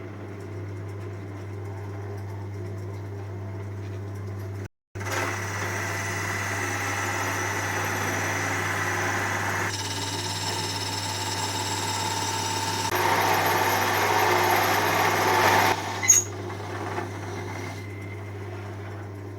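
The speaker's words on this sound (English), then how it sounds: "I'm going to drill the centre out with this one." A lathe runs with a steady low motor hum while a drill bores out the centre of a laurel wood piece, with a brief cut-out near the start and a harsher, louder grinding stretch toward the end.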